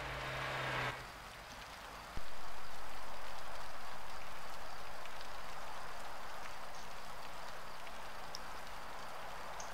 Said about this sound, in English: it's raining in the background